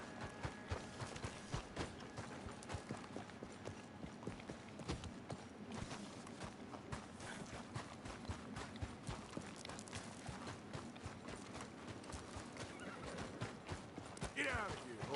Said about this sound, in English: Get out of here, horse.